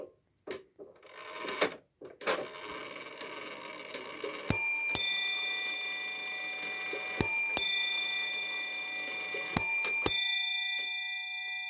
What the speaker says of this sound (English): We'll go from the quarter to chime, so you'll get 3 ting tangs